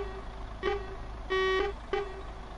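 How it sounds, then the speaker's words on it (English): A truck horn in the Truck Driver video game honks three times, a short toot, a longer blast and another short toot, loud and close over a low steady engine hum. "sounds like a proper truck horn"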